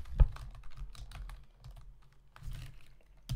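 Someone types the ipconfig command on a computer keyboard at a Windows command prompt. Quiet, close, uneven clicks of individual keystrokes, with a sharper tap near the start and another at the end.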